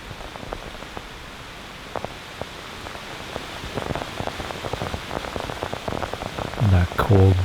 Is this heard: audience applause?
no